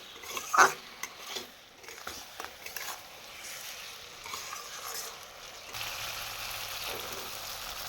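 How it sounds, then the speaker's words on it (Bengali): Ground mustard paste is stirred into a rohu fish curry in a pan, with soft scraping and low sizzling, a sharper clink near the start, then quiet steady cooking noise. "কিছুক্ষণের জন্য সর্ষেটা দিয়ে মিশিয়ে নিব ভালো করে।"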